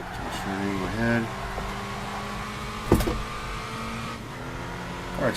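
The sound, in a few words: car engine in Gran Turismo 5 video game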